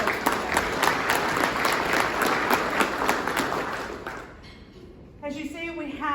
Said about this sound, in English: Let's give them all a round of applause and thank you for hosting us.